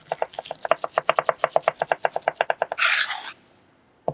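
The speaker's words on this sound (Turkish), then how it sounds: "Kırmızı dolmalık biberi küp küp doğrayın." A knife chops red bell pepper into cubes rapidly on a cutting board, about two dozen quick even strikes, then a short scraping sweep and silence.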